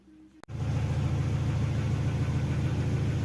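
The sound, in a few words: Mercedes W202 car engine starting and running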